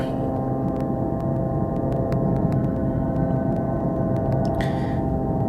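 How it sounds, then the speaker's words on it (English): A low, broad continuous roar like an airplane passing overhead holds steady and fairly loud throughout, with faint clicks scattered over it. "Relax, it's the sound of an airplane."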